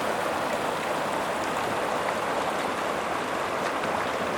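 A mountain stream rushes right beside a trail crossing in the Sierra, a dense, steady broadband wash of flowing water with no talk.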